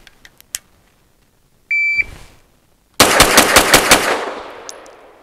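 Rapid burst of pistol shots from a BUL Armory TAC firing Fiocchi 115 grain ammunition, about eight loud sharp cracks in quick succession with ringing decay, preceded by a short electronic beep and a few faint clicks.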